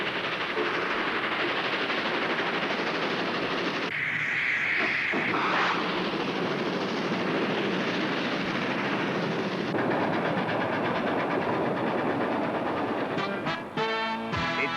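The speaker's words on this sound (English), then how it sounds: "Another train. Look at that!" A train rolls past on the rails with a continuous roar and hiss, and a rapid clickety-clack of wheels over the joints builds toward the end, close and loud without voices.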